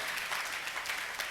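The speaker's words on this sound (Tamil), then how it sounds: "கைத்தட்டப்பா, கைத்தட்டப்பா, கைத்தட்டப்பா" An audience in a church claps together in a thick, continuous burst of applause, close and fairly loud, with a few stronger surges along the way.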